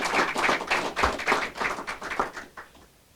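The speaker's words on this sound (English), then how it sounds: "Can we give Brother D a round of applause?" An audience at a mayor's press conference in Erie applauds steadily, a dense burst of many hands clapping that carries on and then thins out toward the end.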